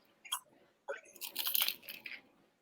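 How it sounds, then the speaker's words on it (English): A crunchy bite into a brioche sandwich with chips, giving a sharp close crunch followed by a burst of crackling chewing, all quite near and without talk. "That crunch is insane."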